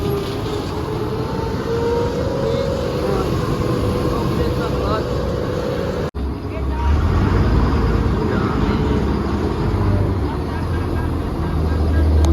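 A John Deere tractor engine drones steadily and loudly at close range, a dense continuous rumble that lasts throughout with a brief dip midway, with voices faintly present.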